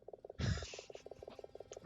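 Steady rhythmic pulsing of frog croaks fills a video game scene, joined partway by a louder burst of a pirate frog character croaking, then the even pattern carries on.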